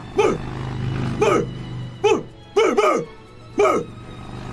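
A person imitates a dog barking, giving five sharp bark-like yelps with a pair close together near the middle, loud and close over a low background hum.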